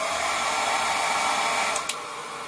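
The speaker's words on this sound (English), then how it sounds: "I'm gonna take the old hair dryer too." A hair dryer blows in a steady, loud whir, used while working on a fender bib for a Harley-Davidson motorcycle, with a brief click or shift near the end.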